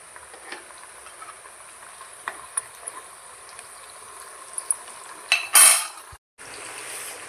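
Banana chips fry in coconut oil with a low, steady hiss and scattered utensil clinks, then salted turmeric water hits the pan in a loud, brief sizzling burst before the sound briefly cuts out.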